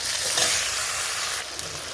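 Spices sizzle and fry steadily in a pan for a Bengali lau and snail curry with turmeric, ginger, salt and chopped tomato, a loud close hiss with a brief softer dip near the end and no talk.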